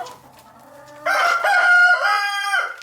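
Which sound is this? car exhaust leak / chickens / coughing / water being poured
chickens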